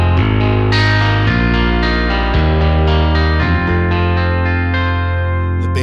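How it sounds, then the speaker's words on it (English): A distorted, compressed keyboard bass on a Yamaha YC61 plays a series of sustained notes, thick and buzzy, changing pitch every second or so, loud and up close. "The bass, I have a distortion on that and a compressor."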